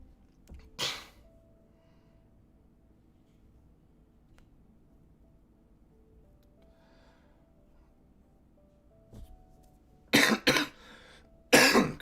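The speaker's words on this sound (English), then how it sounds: "I don't know why I'm coughing so much." A few sharp coughs: a single cough early, then a cluster of harsh, close coughs near the end, with quiet room tone in between.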